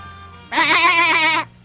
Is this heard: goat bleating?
yes